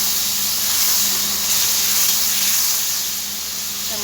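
Spices tipped into a pan of fried onions set off a loud, continuous sizzle. The broad frying hiss swells and eases slightly but never stops.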